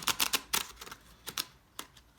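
A Mermaid Tarot card deck is shuffled by hand, giving a few quick, crisp riffling bursts of cards snapping together, close and fairly quiet.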